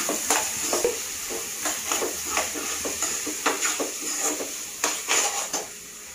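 A spoon scraping and clinking against a pan while peanuts are stirred into a spiced rice mixture for a village-style tamarind rice, with a quick run of repeated metallic taps and scrapes over a soft frying sizzle.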